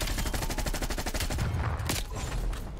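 Groza assault rifle in Call of Duty Black Ops Cold War firing a long, rapid automatic burst of evenly spaced shots that stays loud and dense for nearly three seconds, with the rattle loosening slightly near the end.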